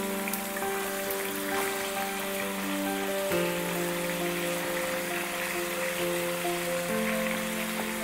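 A fish head spluttering in hot oil, a dense steady crackle and sizzle filling the whole stretch, with a faint tonal hum from a nearby appliance behind it.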